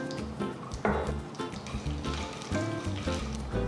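Mustard seeds and cumin sizzle and crackle in hot oil in a pan for a Tamil cabbage kootu, a steady close frying hiss with scattered pops and brief louder bursts.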